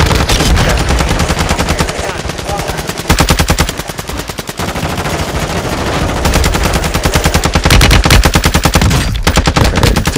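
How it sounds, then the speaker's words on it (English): Sustained heavy automatic gunfire in a military combat setting, long rapid machine-gun bursts close and very loud, with brief lulls and faint radio-style voices underneath. "Taking effective fire."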